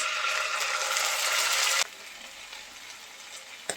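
Pangas fish fries in a pan with garlic paste, first as a loud, bright, dense sizzle that suddenly drops away to a faint crackle, ending with a small knock.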